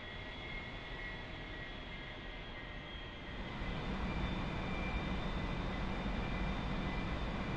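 Aircraft engine roaring through takeoff in the DCS flight simulator game, a steady sustained drone with tonal whine that grows louder midway, alone without talk.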